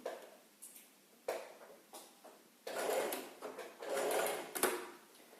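A sewing machine runs in short bursts, whirring stitches starting and stopping with brief clicks between runs, close by.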